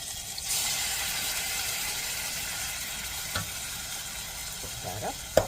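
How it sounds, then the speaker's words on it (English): Seasoning sautéing in a pan for Jamaican meatloaf gives a steady, close sizzle with a few brief scrapes and clinks of stirring near the end. "I'm gonna take up my seasoning. I'm gonna saute it a little bit."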